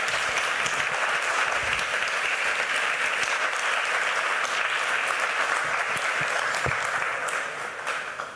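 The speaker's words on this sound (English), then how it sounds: "a generous round of applause" An audience at an impact investment conference in India applauds steadily and loudly, a dense wash of clapping that holds for about eight seconds before tapering off at the end.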